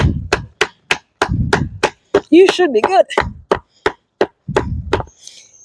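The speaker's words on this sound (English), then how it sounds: "And I use the hammer and I wedge it under." Sharp, evenly spaced hammer strikes on a wooden fence post bracket, about a dozen close, loud knocks with a brief spoken phrase in the middle.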